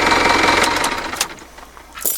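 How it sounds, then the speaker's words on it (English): A Mitsubishi Fuso FG140 diesel truck engine idles quietly with fresh oil, giving a close, fast, even clatter that fades partway through, with a few brief knocks near the end. "But it purrs so quietly with fresh oil."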